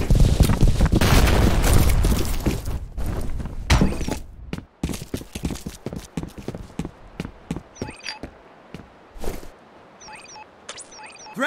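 A grenade blast in the multiplayer shooter F.E.A.R. Combat gives a loud, dense burst of noise lasting a few seconds, followed by scattered sharp clicks and thuds as game action continues.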